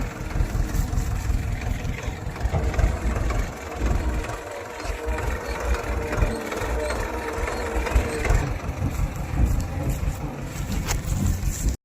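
A farm tractor engine idles steadily, a continuous low rumble with a mechanical chatter that holds the whole time, with a voice talking over it outdoors.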